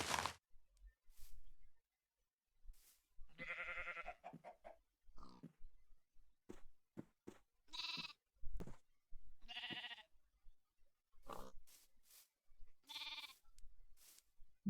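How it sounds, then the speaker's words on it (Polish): Sheep bleating in the Minecraft video game on a wool farm, several short separate bleats at moderate loudness, alone with no talk. "Poczekam aż owce urosną."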